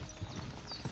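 Horse hooves clip-clop at a steady walking pace in the medieval video game Kingdom Come Deliverance 2, close and even over a soft ambient bed.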